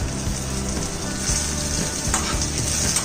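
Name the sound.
chutney ingredients frying in a pan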